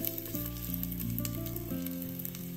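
Four slices of ginger sizzle in hot oil in a clay pot over medium heat, a close, continuous crackling hiss, with a low sustained tonal hum running beneath it.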